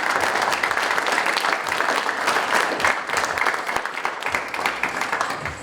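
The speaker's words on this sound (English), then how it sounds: "So give her a round of applause, please." Audience at a school drama production applauding the crew, steady full clapping from many hands throughout, fairly loud and even with a murmur of crowd beneath.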